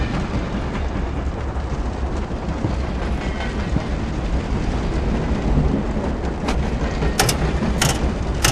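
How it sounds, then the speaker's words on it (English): A train rolls along in a Wolfenstein: The New Order cutscene on the way to Berlin, a steady, dense rumble of wheels and carriage with a few brief metallic clanks near the end and no voices. "on a train to Berlin."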